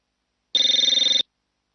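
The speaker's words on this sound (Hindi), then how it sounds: "फोन उठाओ, कब का बज रहा है?" A single short burst of a telephone bell ringing, a rapid trilling ring lasting under a second, close and clear, with no talk.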